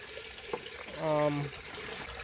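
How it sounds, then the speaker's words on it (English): Water is poured into a cucumber plant container in a brief, fairly quiet trickle that rises in pitch as the vessel fills, set against a faint background hum. "we need to add some more water to this one as well"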